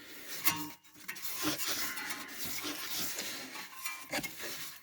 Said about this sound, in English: Let's see if I can get some kind of a wrench on that or something.